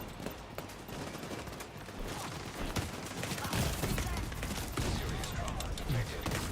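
Dense, rapid gunfire from a firefight in The Division 2 video game, a steady crackling barrage of overlapping automatic shots that grows slightly louder and busier toward the end.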